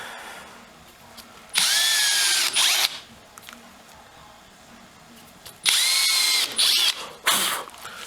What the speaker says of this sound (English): We'll just drill the other two holes.